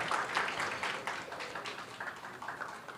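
A felicitation ceremony at a Navratri festival in Borivali, where an audience gives a short burst of scattered applause that fades slightly over three seconds, fairly soft and somewhat distant.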